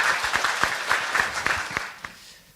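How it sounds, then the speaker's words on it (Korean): Audience applause welcoming a professor to a creation science seminar, with distinct individual claps standing out in a fairly close, rhythmic pattern that thins out over a couple of seconds. "박수로 환영하겠습니다."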